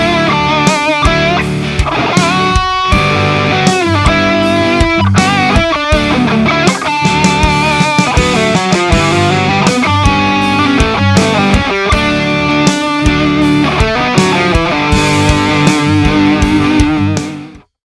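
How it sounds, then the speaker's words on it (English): Distorted electric guitar plays lead phrases: fast picked runs, quick grace-note hammer-ons, barred double stops and slides, loud and continuous, rhythmic note attacks, no voices. "We start off with this sort of picking segment, a little bit like the fast sort of grace note hammer-ons and the barred double stops."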